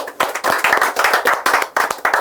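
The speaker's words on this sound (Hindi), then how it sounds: "तालियां हो जाए।" Clapping hands at an interview felicitation for a Rajasthan Police constable recruit, a small group applauding in a brisk, uneven rhythm of distinct close claps for about two seconds.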